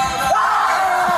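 One person lets out a loud sustained scream lasting about a second, raw and close, with no other voices over it.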